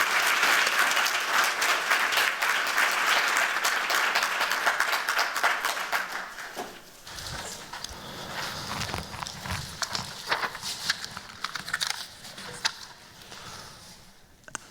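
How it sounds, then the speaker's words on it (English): Enthusiastic applause greeting keynote speakers at a Black in Design 2025 event, a loud, dense roar of clapping that fades after several seconds into sparse claps, footsteps crossing the stage and low murmurs. "Please give a round of applause to welcome our speakers to the stage."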